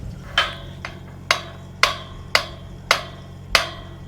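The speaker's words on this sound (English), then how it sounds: "If you'll just take that hammer, Dakota, and tap these jacks that way a touch" A hammer taps the jacks on a custom flush-mounted slam gate latch: about seven sharp metallic knocks, close and fairly evenly spaced, with no talking.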